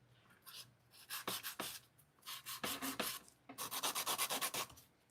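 Hand filing an acrylic nail with a 100-grit file: quick, close, scratchy strokes in short bursts with brief pauses, a rapid run of even strokes near the end, quiet and without talk.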